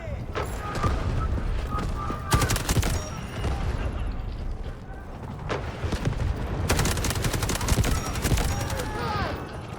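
Gunfire in the video game Delta Force, with rapid automatic bursts and scattered single shots at close and middle distance across a busy battlefield backdrop, while a person talks over the action.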